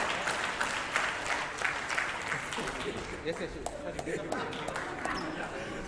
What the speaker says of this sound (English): Let's go on a big round of applause.